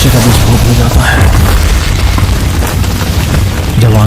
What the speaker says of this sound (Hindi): अपना बेताल मुकुट निकालकर लमाशी के ऊपर रखते ही लमाशी का विस्फोट हो जाता है